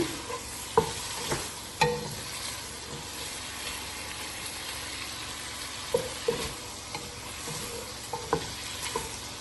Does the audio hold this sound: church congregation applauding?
no